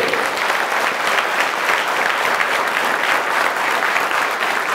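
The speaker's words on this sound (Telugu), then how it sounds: "ఒక్కటి నుండి మీకోసం క్లాసెస్ తీసుకున్న మీ టీచర్లందరికీ క్లాప్స్ కొట్టండి." Tenth-class students applaud their teachers at a motivational school session, a dense, steady wash of many hands clapping together at close range that holds an even level from start to finish, with no speech over it.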